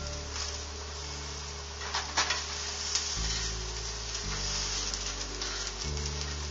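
Fideo pasta frying and being stirred in a pan, a steady close sizzle with scraping stir sounds throughout and a low hum underneath.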